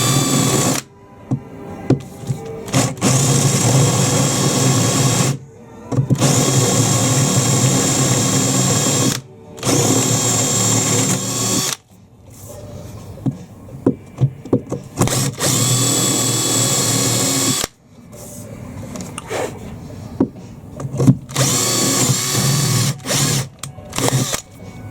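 A power drill bores through boat cockpit laminate into closed-cell foam in several loud, whining bursts separated by short pauses, close up with no talking.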